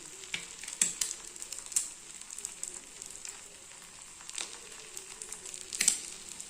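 Half-boiled egg with salt and pepper frying in a pan, a soft, steady sizzle broken by small sharp pops and crackles, fairly quiet.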